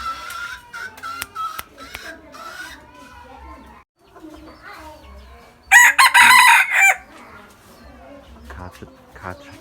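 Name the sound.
decoy rooster crowing and clucking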